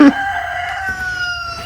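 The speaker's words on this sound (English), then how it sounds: "Chicken." A rooster crows in an old barn, one long drawn-out call that trails off near the mic, with faint barn ambience underneath.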